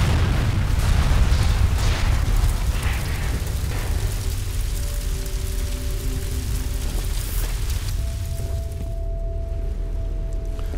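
An explosion rolls out in the shooter game F.E.A.R., a loud low boom with crackling, rumbling debris that lingers and slowly settles into a quieter hum.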